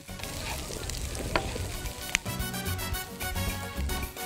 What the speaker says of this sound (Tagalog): Iginisa sa bawang at sibuyas ang pusit at hipon.